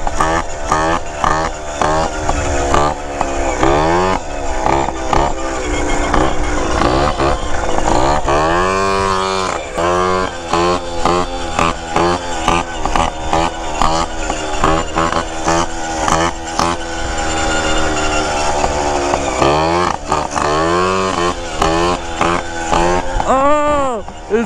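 A 64cc stunt moped engine on its first ride buzzes loud and near for the whole run, its pitch repeatedly climbing and dropping with the throttle, while someone talks over it at times.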